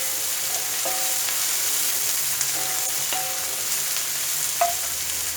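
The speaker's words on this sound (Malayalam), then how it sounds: "നല്ല ചെറുതായി അരിഞ്ഞ ഒരു വലിയ സവാള തന്നെ ചേർക്കണം." Finely chopped large onion frying in hot oil in a pan for an okra (bhindi) masala, giving a steady close sizzle with a few light stirring scrapes and no talking.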